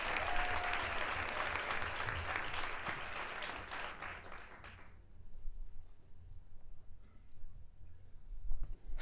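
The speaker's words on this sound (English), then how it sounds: "Can we give a nice warm round of applause for him?" An arts summit audience gives a warm round of applause for a production team member, a dense, sustained clapping that stops abruptly around the midpoint, leaving quiet room tone with faint low rumbles.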